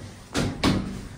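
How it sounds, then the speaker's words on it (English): An elevator door in a Boston parking garage slides shut after a button press, giving two quick, close thuds in succession with a short rumble trailing off. "The door closes when you push the button."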